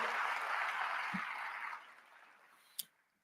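Applause from a large audience at a city's State of the City address, a steady distant wash of clapping that fades out over the first two seconds, followed by a single sharp click.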